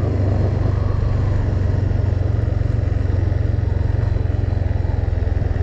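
A 150cc motorcycle engine drones steadily and loudly from close range while riding, a continuous low rumble with no speech.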